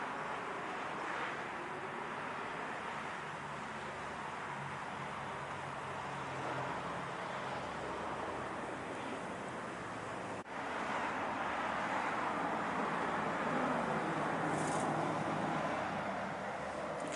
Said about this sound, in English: You can hear all the car traffic, trucks.